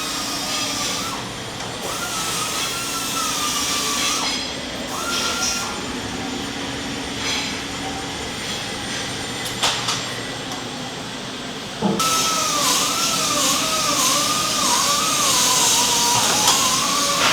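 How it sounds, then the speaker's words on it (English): An overhead crane with a big magnet, worked by wireless remote, moves a steel beam through a log splitter fabrication factory, giving a steady loud mechanical whine with wavering motor tones and industrial hum that grows louder partway through. "here he's using our overhead crane, and that's wireless remote control, and it's got a big magnet on it here."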